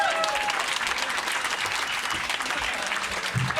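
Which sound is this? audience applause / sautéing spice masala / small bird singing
audience applause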